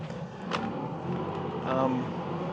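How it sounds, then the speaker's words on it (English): Local bus driving through Shikoku, Japan, with a steady low engine and road rumble running throughout under faint background voices. "I'm on this bus."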